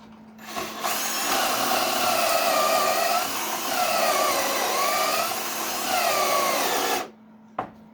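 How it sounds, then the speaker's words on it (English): Ryobi cordless drill boring into wood through a Kreg pocket-hole jig, a loud whining motor that bogs and rises across several seconds of drilling before stopping abruptly, followed by one sharp click. "go ahead and drill this out."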